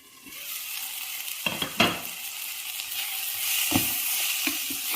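Onions frying and softening in a pan for a mint chutney, giving a steady close sizzle with a few sharp stirring scrapes and clinks, no voices.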